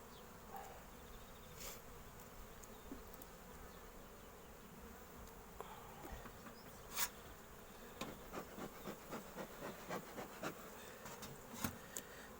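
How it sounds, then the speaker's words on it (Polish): Honeybees buzz faintly and steadily in an open hive of a queenless colony, with a run of soft clicks and taps toward the end. "pszczoły w miarę takie agresywne się robią, więc mogą być poddenerwowane brakiem matki."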